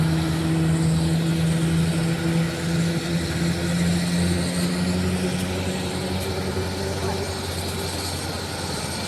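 Airplanes at Chennai Airport with rain falling, a steady loud engine drone with tonal hum that runs throughout, close and continuous, with no clear talk.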